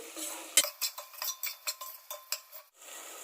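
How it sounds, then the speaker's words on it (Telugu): Semiya being stirred with salt and turmeric in a pan, a spoon scraping and tapping the metal in a quick, regular rhythm of about nine light strokes, close and clear with no talking. "ఇప్పుడు బాగా మిక్స్ చేసుకోవాలి"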